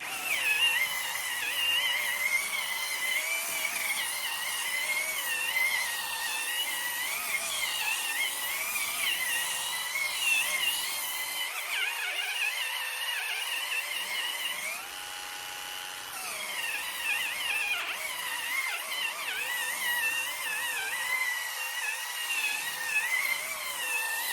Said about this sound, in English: Now we're going to do some polishing.